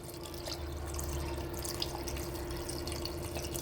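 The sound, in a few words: water being poured into pressure cooker for mutton biryani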